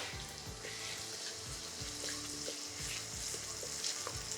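Sliced onion with ginger garlic paste fries in a pan for an Indian paneer butter masala, a steady close sizzle with occasional stirring scrapes.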